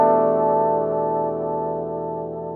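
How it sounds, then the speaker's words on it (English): Guitar played through a Source Audio C4 Synth pedal with its tape warble effect, a single rich sustained chord ringing out and slowly decaying, alone and fairly loud. "let me turn this down and show you what it just sounds like with the tape warble"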